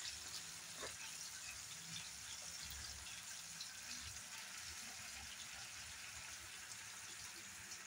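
Water poured into a mixer grinder bowl while cooking an egg curry, giving a quiet, steady trickle and gush that runs unbroken for several seconds with no voices.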